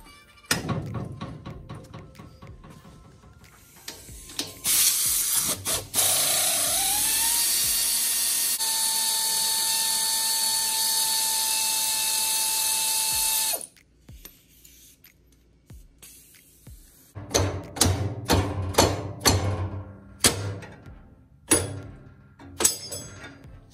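Ratchet wrench loosening the U-bolts on the rear gas tank of a Willys Jeep, with rapid bursts of close metallic clicks at the start and again near the end, separated by a long steady hissing stretch.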